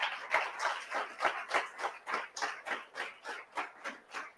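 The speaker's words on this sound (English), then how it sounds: "Because they need a big round of applause." An audience at the DHARA conference, which is about India's music and dance traditions, claps in a steady, even rhythm. The beats are quiet and somewhat distant, about three per second, and continue without a break.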